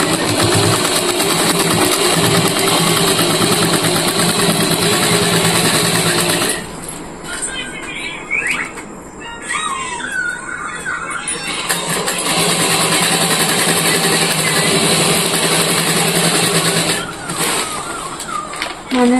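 A sewing machine runs loud and close as it stitches a bag made from a rice sack, a steady mechanical whir that pauses briefly midway and then resumes.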